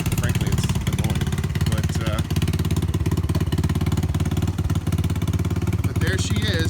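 A custom Roma 150cc Super Hornet motorcycle engine runs steadily at close range, a loud continuous low throb with a fine rapid firing pulse that holds even throughout.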